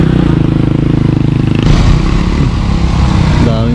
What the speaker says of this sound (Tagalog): Daming motor yun